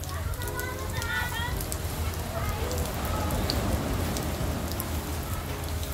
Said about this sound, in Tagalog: kaya lang bigla namang bumuhos ang ulan